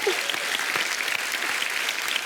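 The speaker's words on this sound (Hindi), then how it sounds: "तालियां फॉर मिजान" A television studio audience claps steadily and evenly throughout, a dense, continuous wash of applause heard on its own with no voices over it.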